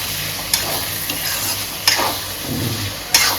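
Bengali-style sea fish curry being stirred in a frying pan right after coriander powder goes in; a steady close sizzle with several sharp spoon-against-pan scrapes and clinks, no talking.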